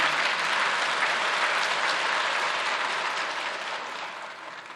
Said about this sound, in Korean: 박수를 쳐주시는 것은 고마운데